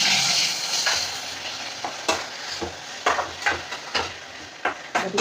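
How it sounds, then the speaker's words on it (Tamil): A ground paste of onion, ginger and garlic sautés in a pan for paneer butter gravy, giving a steady close sizzle with scattered stirring scrapes and knocks from a utensil against the pan. "இது நல்லா வதக்கிக்கணும்."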